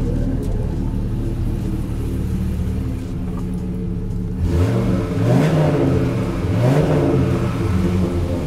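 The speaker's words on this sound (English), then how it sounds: "Let me give it some gas so you can hear it." A 2004 Dodge Ram SRT-10 pickup's V10 engine idles with a low rumble, then revs up several times in rising and falling surges, loud and close.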